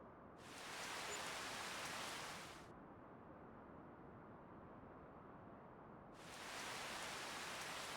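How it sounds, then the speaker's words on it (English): Steady rain in the farming game Farming Simulator 25, a constant hiss that swells louder in two bursts at the start and end, with a quieter stretch of rainfall between them and no voices. "oh cool, more rain and whatnot."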